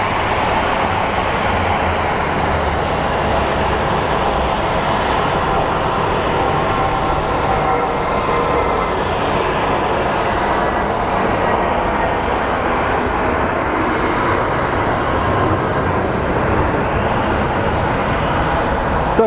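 A Southwest airliner departing Phoenix Sky Harbor airport, a loud continuous jet engine roar heard from a parking garage rooftop, broadband and steady throughout with no pauses.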